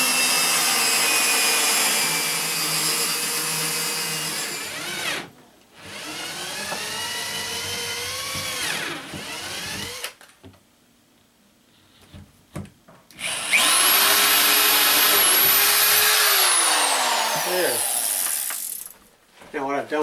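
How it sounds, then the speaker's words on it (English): Power drill pre-drilling holes for a sliding door track during a basement bathroom build: loud whining bursts that rise in pitch as the motor spins up, separated by short pauses of near silence. "what I want to do is pre-drill these holes"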